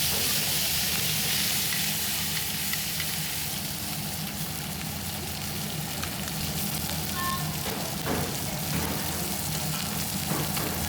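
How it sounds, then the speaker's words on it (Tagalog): Sisig sizzling on a hot plate or pan, a steady, loud, crackling fry that hisses without pause, with faint clinks and background chatter. "Sinamahan na rin namin ng sisig na niluluto pa lang"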